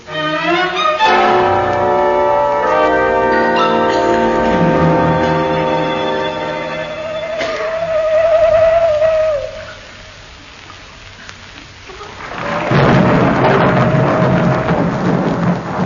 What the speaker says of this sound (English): Hear that? Owl hoot and a thunderstorm.